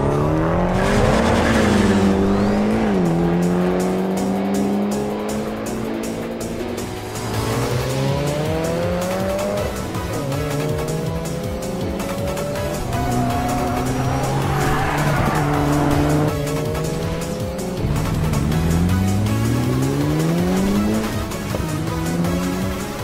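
Street race cars in the Garry's Mod video game squeal their tires and skid repeatedly, engines whining and sliding in pitch over a continuous loud roar.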